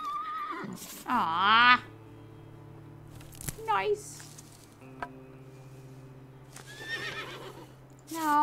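A horse in the video game Above Snakes whinnies when petted, two or three clear neighing calls separated by quiet stretches under a low game drone, with a person briefly talking in between.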